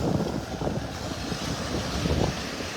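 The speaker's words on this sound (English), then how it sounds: "Well, wind's picking up a little bit." Wind blowing on a rainy beach in North Naples, Florida, a steady rushing roar with gusty buffeting against the microphone and surf in the background.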